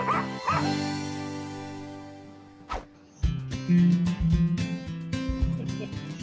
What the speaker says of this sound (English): There's my puppy Henry right there